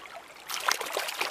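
Fast-flowing stream water in a trout river rushes and trickles, a bright hissing wash that swells halfway through and stays steady and close, with no voices.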